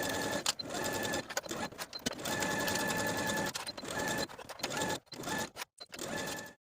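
A sewing machine runs steadily while stitching the side seams of a dress past a serged edge, with a near, continuous whir broken by short pauses and a few stop-and-start bursts toward the end.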